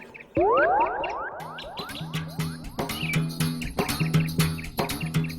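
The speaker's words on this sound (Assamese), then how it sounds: "আম পকা গম পাই চৰাই আহিয়ে গৈছে।" Bright bird-like chirps and tweets repeat over a bouncy, rhythmic backing with rising, sliding tones.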